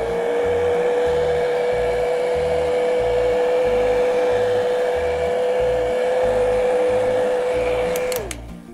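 A hair dryer runs steadily to dry fresh paint on a painted piece with a chipped-paint finish, a close, constant whirring drone that holds for about eight seconds before cutting off near the end.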